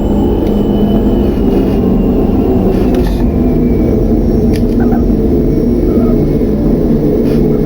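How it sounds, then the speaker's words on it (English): An airplane's engine drones loud and steady as it takes off from a runway, a continuous close rumble with no pauses. "we're just gonna take off of this runway"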